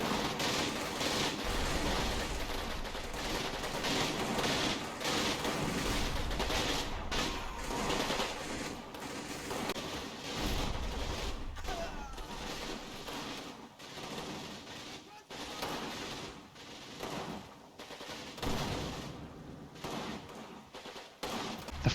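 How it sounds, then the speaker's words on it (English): Suppressive fire in the World War II game Combat Mission, from the Kampfgruppe Peiper battle, comes as sustained bursts of gunshots and machine-gun rattle, loud and continuous, with sharp repeated cracks over a dense background of battle noise. "I maintain my suppressive fire."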